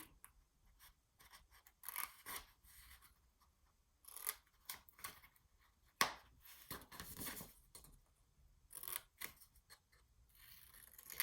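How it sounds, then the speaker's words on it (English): Scissors snip small squares off paper for a mini album box lid, with a series of close, crisp cuts and brief pauses between them and no talking. "All we're going to do is cut off the 2 little squares on each side"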